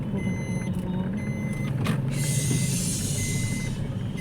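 A truck reverses with a steady string of repeated electronic warning beeps, heard over low engine rumble and open-air street noise during a Ganpati idol's arrival.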